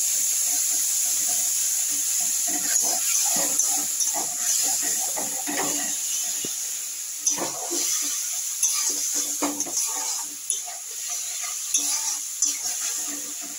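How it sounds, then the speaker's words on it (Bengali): Asafoetida, tomato and ginger paste frying in a pan make a close sputtering hiss, with bursts of wet popping and crackle over a steady sizzle and faint pan scraping. "এবার হিংটা দিয়ে দিচ্ছি এই যে টমেটো আর আদার পেস্টটা"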